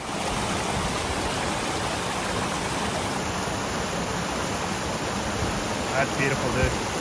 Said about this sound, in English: For some reason, this creek isn't on a lot of maps,